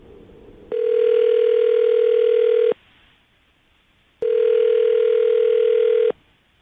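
Two long steady telephone tones sound, each lasting about two seconds, separated by a short quiet gap with faint line hiss, clear and close.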